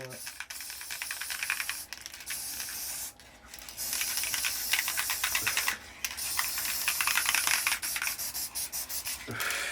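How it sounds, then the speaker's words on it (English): Sticker remover sprays in short hissing bursts onto an old 486 computer case, followed by steady rubbing and scrubbing, close and fairly loud. "And I have a sticker remover."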